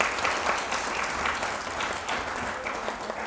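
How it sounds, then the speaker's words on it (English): An audience in a TEDx live-stream hall breaks into steady, continuous applause, a dense wash of clapping that holds an even level throughout with no voices rising above it. "give yourselves a round of applause."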